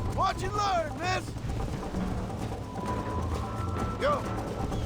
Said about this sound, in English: Jiggle those spurs, Miss McFarland.